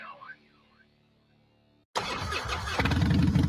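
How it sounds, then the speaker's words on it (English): A popular American motorcycle engine fires up abruptly after a short high squealing tone, then roars loudly and revs harder, its rough rumble filling the last seconds. "This is the sound of a popular American motorcycle."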